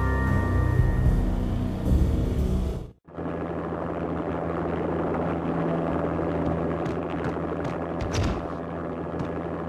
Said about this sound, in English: An armed helicopter just landed on the manor grounds.